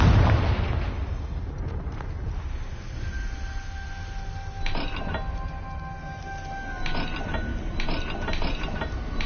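A Confringo blasting curse in the video game Hogwarts Legacy erupts in a heavy explosive burst at the start, rolling off into a long rumble with later clicking, mechanical clunks and a faint ringing tone.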